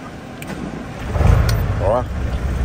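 A 1994 Ford F1000 Super Cab pickup with an MWM 229 turbo intercooled diesel starts up, giving a low rumbling crank and catch that settles into a rough running note, with a squeal and possible exhaust leak.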